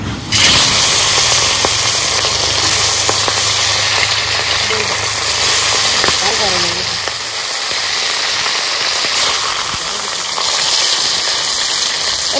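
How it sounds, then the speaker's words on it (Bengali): Fish frying in mustard oil in a hot wok gives a steady, loud sizzle and crackle that holds evenly from start to finish, with a faint voice speaking in the background. "মাছগুলো ভেজে নেবো।"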